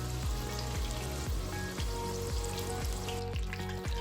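Crab cake egg rolls, cooked from semi-frozen, fry in hot oil with a steady dense crackle and sizzle, a continuous close bubbling with a regular low pulsing beneath it.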